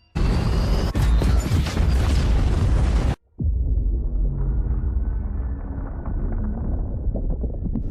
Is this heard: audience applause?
no